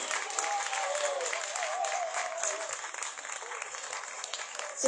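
Audience applauding a music group at a cultural performance, steady dense clapping throughout, with a voice speaking over it.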